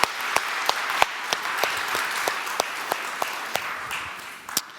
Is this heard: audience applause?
yes